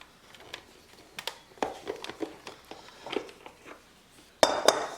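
A mixing bowl taken out and handled in a kitchen while preparing lemon pepper chicken thighs for the air fryer: a run of close clinks, knocks and clatters of dishware, ending in two louder sharp clanks.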